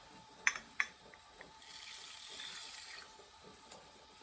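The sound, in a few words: water poured over seeds for sprouting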